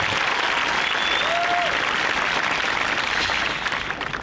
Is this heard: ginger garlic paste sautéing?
no